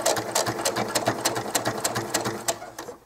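A sewing machine stitches a doll-clothes seam in reverse: a steady, rapid mechanical needle clatter with a regular beat, close and loud for about three seconds, with no voice.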